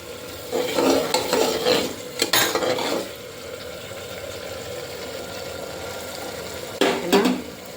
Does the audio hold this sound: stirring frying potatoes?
yes